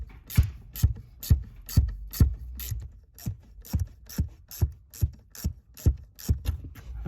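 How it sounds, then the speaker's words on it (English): Steel M4 tap cutting threads into drilled holes for pedal mounting on a 1991 Honda NSX, heard as a regular rhythmic series of sharp clicking ratchet strokes, close and fairly loud, with no talk. "So I'm gonna go ahead and start tapping this."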